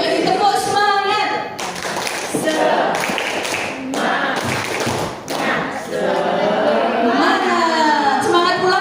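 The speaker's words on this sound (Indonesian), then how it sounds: "Mau nggak ngantuk ini, tepuk semangat" Teachers at a school workshop perform a rhythmic group clapping routine, loud close bursts of claps and thuds in patterned sequences, with chanting voices and chatter mixed in between.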